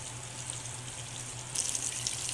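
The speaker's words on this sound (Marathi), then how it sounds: "आता ही वांगी दोन ते तीन मिनटांसाठी मंद व्यवस्थित परतवून घेऊया जेणेकरून ते तेलामध्ये व्यवस्थित परतली जाते" Eggplants fry gently in oil in a pan over low heat, giving a steady soft hiss and sizzle that gets a little louder and more crackly partway through.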